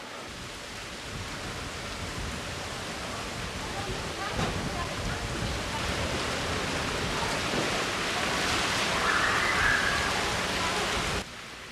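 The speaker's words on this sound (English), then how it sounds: "It started raining." Rain pours down at an outdoor competition, a dense, loud broadband wash that builds slightly over time and holds steady before cutting off near the end, with no voices.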